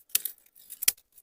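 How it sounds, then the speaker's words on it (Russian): Small dry twigs snapped by hand for a bushcraft campfire in the woods, giving two sharp, close cracks about three-quarters of a second apart, each followed by faint brittle crackling. "веточек наломаю"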